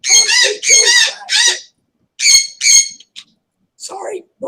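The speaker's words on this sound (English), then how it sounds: "Sorry, birds are loud again." Loud, harsh bird squawks come in bursts of three, then two, close by, followed by brief quieter calls between pauses.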